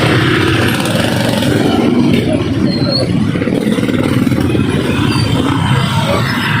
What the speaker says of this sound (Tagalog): Matindi ang traffic.